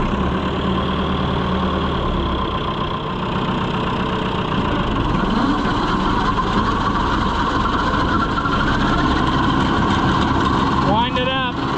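Tractor engine running at idle in a farmyard, a steady loud mechanical rumble throughout, with a voice speaking over it and a brief whine near the end.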